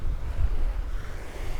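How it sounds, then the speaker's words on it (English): Strong wind by the sea buffeting an outdoor wireless microphone, a loud, continuous low rumble with gusty swells and a faint wash of surf beneath, no voices. "The wind is quite bad, but hopefully this will be okay."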